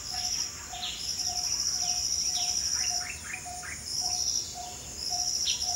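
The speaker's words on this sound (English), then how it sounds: "Lot of birds." Many birds sing and chirp at dawn, with repeated rising and falling calls scattered across the scene, over a steady high insect-like trill and a regular short tone repeating every half second or so.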